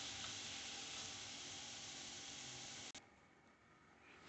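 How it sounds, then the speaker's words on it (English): Bottle gourd koftas frying on a low flame give a quiet, steady hiss of sizzling oil that drops to a fainter sizzle partway through. "We have to fry them on a very low flame so that it gets cooked from inside."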